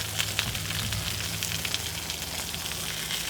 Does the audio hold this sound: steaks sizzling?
yes